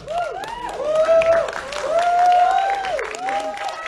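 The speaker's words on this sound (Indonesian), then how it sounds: "Tepuk tangan untuk Pramuti Tio sebagai sutradara" Crowd applause at a film premiere event for Keramat 2, honouring the director, with loud whooping and shouting voices riding over the continuous clapping.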